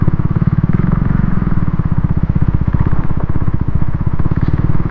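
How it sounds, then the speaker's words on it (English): A motorcycle ridden slowly and carefully over rough ground near Sabbanahalli lake, its engine a loud, close, even thumping pulse at low revs with faint clatter, no voices. "Not any big challenge for the engine, but it's a challenge for the tires."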